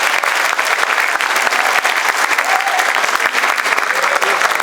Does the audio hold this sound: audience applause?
yes